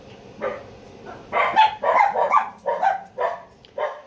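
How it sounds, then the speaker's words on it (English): Several puppies bark and yip in quick, overlapping bursts, close and fairly loud, with short pauses between the yaps. "Barking puppies because my daughter's coming in."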